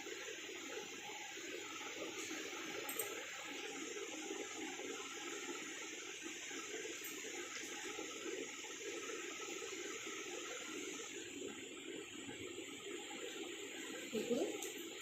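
Cooking oil is poured from a one-kilogram packet into a mango pickle mixture: a continuous, steady liquid pour with hiss and splash lasting throughout, and a slightly louder gurgle near the end.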